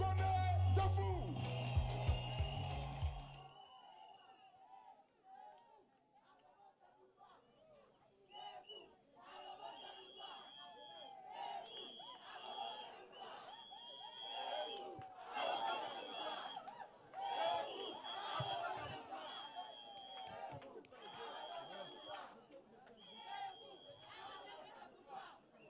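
Crowd at an RHDP political rally in Abobo acclaiming Koné Tafou, a dense, steady wash of chatter and cheers with scattered whistles that rises in waves, after a loud opening burst.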